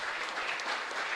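A brief, full burst of congregational applause for the priest during a live Mass at a chapel in Luque, many hands clapping together at an even volume.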